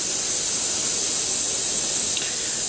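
An airbrush sprays a light mist of top coat in steady, close hiss for the whole stretch, with no talking, as a first thin pass in model weathering.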